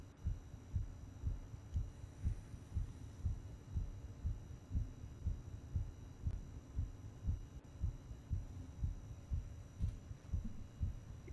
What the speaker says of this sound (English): I gotta listen to my heartbeat.